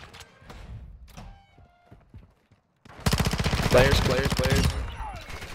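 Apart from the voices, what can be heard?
shotgun gunfire in a video game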